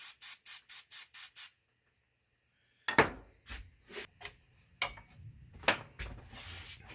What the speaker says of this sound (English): I'll spray a little deoxit on here.